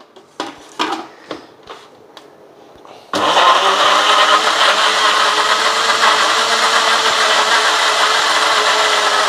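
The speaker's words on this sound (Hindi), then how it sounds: "हम इसको पहले ग्राइंड कर लेते हैं" Kitchen blender grinding eggs for protein pancake batter: a few clicks and knocks, then the motor kicks in loud and steady, whirring continuously at close range.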